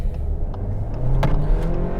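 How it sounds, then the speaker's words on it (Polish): Skoda Octavia Sportline 2.0 TSI 4x4 under kickdown in second gear, with a continuous, fairly loud engine drone that rises in pitch as it accelerates, heard from inside the car with no talking. "Patrzcie, włączamy się do ruchu, drugi bieg, damy teraz kickdown."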